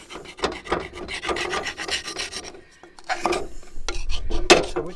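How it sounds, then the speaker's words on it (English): A hardwood spatula scrapes baked-on gunk from the bottom of a camp oven, making steady rasping strokes close up, with a short pause before the scraping resumes and grows louder. "I just scrape everything off the bottom"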